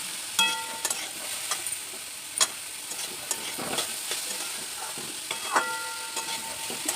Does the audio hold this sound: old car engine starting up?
no